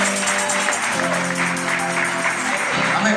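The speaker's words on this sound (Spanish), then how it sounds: "Así que da un fuerte aplauso a los jóvenes" A congregation at the Iglesia Vida Nueva de Esperanza church claps for its young people, a continuous wash of applause mixed with a sustained tonal hum, probably music, throughout.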